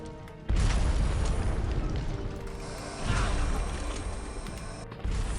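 Nano GL high explosive rounds bursting in Red Faction 2, heavy booming blasts with thick rumbling tails, one near the start and another around the middle, with a further thud at the end.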